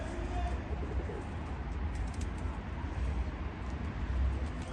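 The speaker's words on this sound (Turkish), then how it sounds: "Bakın şöyle biraz kuşlar da izleyin." Pigeons coo softly outdoors against a steady background of rumbling traffic and ambient noise, with a few faint chirps mixed in.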